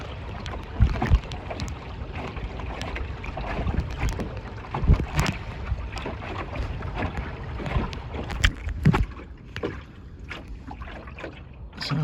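A small sailing boat moving along a river, with steady water wash and gusty wind buffeting the microphone, plus occasional knocks and creaks close by and no talking.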